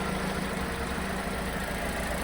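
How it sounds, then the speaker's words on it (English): A Vauxhall Corsa engine idles steadily as it warms up, a constant close rumble with even mechanical noise and no voices. "Just got the engine running up now"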